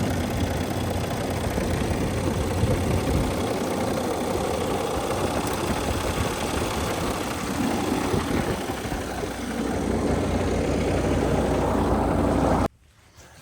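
A diesel X15 engine idles steadily in a 1987 cabover truck, a loud continuous rumble close by that runs for about twelve seconds before cutting off abruptly, with no talking over it.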